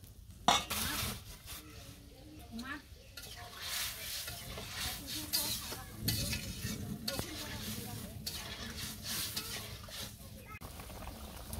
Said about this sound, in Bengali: তরকারি বলক চলে গেছে, মাছটি ছেড়ে দিলাম